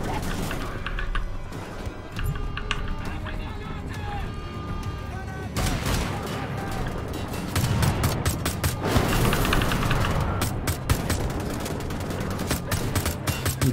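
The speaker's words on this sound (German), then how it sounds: "Ein Zombie mit der Kanone und mit der Pistole erschossen." Heavy cannon and pistol fire in Wolfenstein: The Old Blood, dense bursts of loud gunshots and booming blasts with clattering impacts, nearly continuous, under occasional talk.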